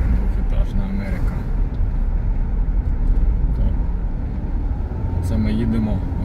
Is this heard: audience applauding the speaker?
no